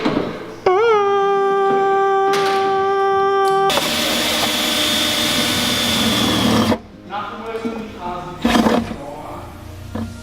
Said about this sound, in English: get ready for drilling, and then we'll drill the set stays in and get those bolted in